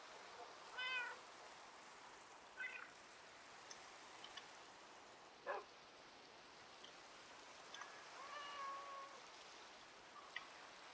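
A Minecraft cat meows several times in short bursts, clear but modest, over a constant soft patter of rain, with no voices.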